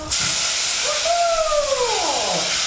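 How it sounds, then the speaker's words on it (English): Tomato drops into a hot pan with a loud, continuous hissing sizzle, and a short falling whistle-like tone sounds briefly over it. "And now I'm going with my tomato, and there's going to be a sizzle."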